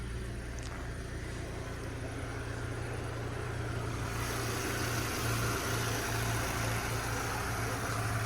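A Volkswagen Golf 5 1.6 MPI engine idles steadily with a low, even hum and rumble, rising slightly in intensity partway through, with no voices.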